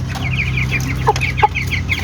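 A thin, light backyard chicken clucks close by in short repeated bursts, with a couple of sharper, louder clucks partway through.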